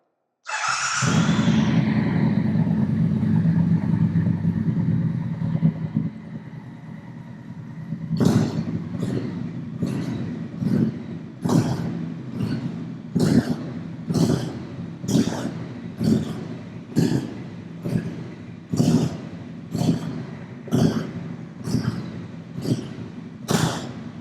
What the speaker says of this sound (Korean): 자드 머플러의 배기 사운드 한번 들어보고요